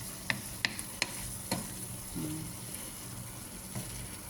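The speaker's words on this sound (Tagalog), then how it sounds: "Pinapadry ko lang, halo ng halo." A utensil stirs tomatoes and egg cooking dry in a pan, giving a few sharp scrapes and knocks over a faint steady sizzle, quiet and close with no speech.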